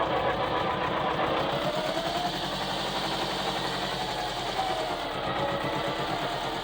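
A 1997 Farm-mot 250D tractor's diesel engine idles nearby, a loud, steady low rumble with an even chugging pulse throughout and no voices.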